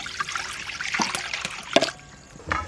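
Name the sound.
water poured into pot for boiling cauliflower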